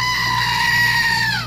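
A goat gives one loud, close, drawn-out scream-like bleat lasting just over a second, alone without talk.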